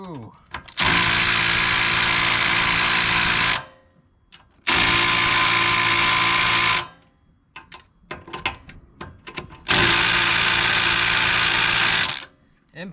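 Impact wrench working on a brass circulation pump, three long loud bursts of whirring, hammering rattle of about three seconds each, separated by short pauses filled with clanks and handling noise.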